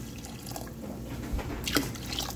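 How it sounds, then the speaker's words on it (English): Water poured from a container into a soup pot of marinara sauce and garden vegetables, a quiet, close splashing and trickling with a brief louder gush near the end and no talk. "now I'm going to add the water to cover."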